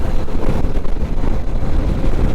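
Strong wind roars on a mountain road toward Munnar, a continuous loud, deep buffeting rush with no break and no talking.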